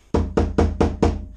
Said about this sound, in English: slowly we're just prising away all of the old putty and all of the old glass